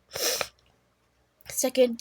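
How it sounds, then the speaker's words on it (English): Two short, sharp nasal sniffs from a person, close and loud, separated by a brief silence. "Hang on, let me just sniffle."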